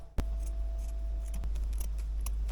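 Scissors snip through curtain fabric with one sharp cut and then a few softer slicing rustles, close to the microphone over a low steady hum. There is no speech.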